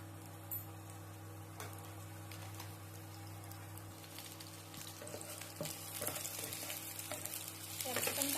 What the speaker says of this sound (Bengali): তেল ভালোভাবে গরম হয়ে গিয়েছে, এবার তেলের মধ্যে দিয়ে দেবো কয়েকটা ক্যাপসিকাম